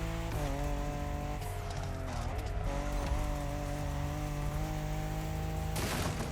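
An Audi RS5 driven hard in the racing game The Crew Motorfest, a steady loud engine drone with rising and dipping pitch through gear changes, and a burst of tire noise near the end.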